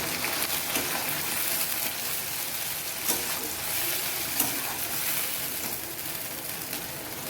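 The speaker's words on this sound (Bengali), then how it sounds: "এটা আমি এখন এটার মধ্যে ঢেলে দিচ্ছি মশলাটা" Ground spice paste of chili, cumin, coriander, garlic and ginger hitting cooking goat meat in a pot, producing a dense, steady hiss and sizzle with a couple of faint knocks, close and even throughout.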